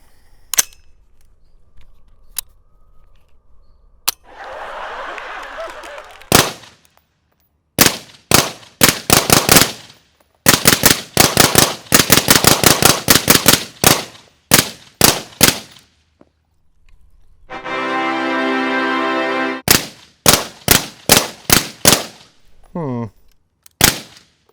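Suppressed 5.56 AR-15 rifle with a Noveske Amigo can firing loud, sharp reports, first as scattered single shots and then in rapid strings, with a few short mechanical noises between volleys.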